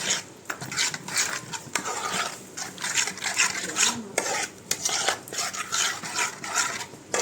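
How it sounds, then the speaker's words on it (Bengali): A spoon scrapes and rubs through a sour yogurt mixture for bhetki fish in a bowl, close and rhythmic, with soft irregular strokes and no voices. "টক দই দিয়ে দিলাম, এটাকে নেড়ে দেবো।"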